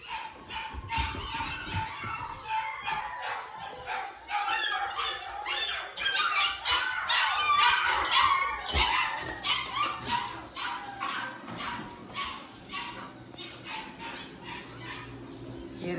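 Several puppies bark, yip and whimper in a loud, overlapping morning chorus, their high calls repeating in quick bursts close by.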